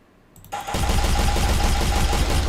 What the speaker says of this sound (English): We shoot it again, it explodes.